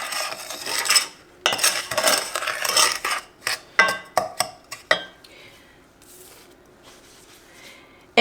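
Sugar, flour and a pinch of salt stirred together in a bowl, close scraping and clinking of a utensil against the bowl in bursts and quick strokes, tapering to quiet near the end.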